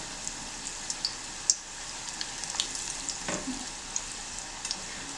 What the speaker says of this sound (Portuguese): Fritando.